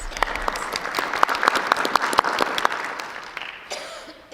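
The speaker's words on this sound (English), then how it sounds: "Let's give them a round of applause" A board of education meeting audience applauds middle school students, a modest round of clapping with a few distinct sharp claps standing out, tapering off over four seconds.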